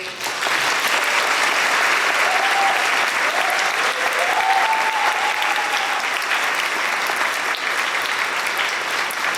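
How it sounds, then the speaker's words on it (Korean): Wedding guests applaud a bridal couple's bow at a Korean wedding ceremony, a steady, dense wash of clapping that swells in quickly and holds loud throughout, with a faint voice briefly audible underneath. "심차게 박수해 주시면 더욱더 감사하겠습니다"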